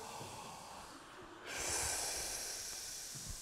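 Choir members in a vocal warm-up take a sudden deep surprised in-breath together, a soft breathy rush that swells midway and lingers as airy hiss, with no talking.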